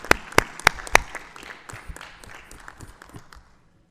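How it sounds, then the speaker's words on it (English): Round of applause from the audience at a Board of Education meeting, opening with a few loud, distinct claps nearby and swelling into scattered clapping that thins and fades to quiet. "So let's give a round of applause."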